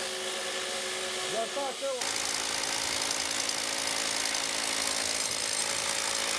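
A power drill bores into old stone with a vein during restoration of a customs shed in Essen, starting softly, then cutting in abruptly as a loud, steady grinding buzz that continues close up.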